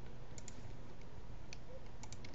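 A computer keyboard typed on at a desk, a handful of light scattered key clicks over a steady background hiss, brief and close.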